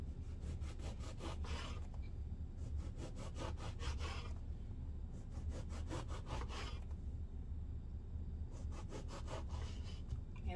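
A knife saws through a loaf of bread, cutting it into small cubes for croutons: close, rhythmic back-and-forth strokes in several bursts with short pauses between them, and no voices.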